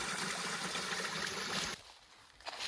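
Jungle spring water trickling and flowing, a steady broadband splashing stream up close that cuts off abruptly partway through, then returns briefly and faintly, with no voices.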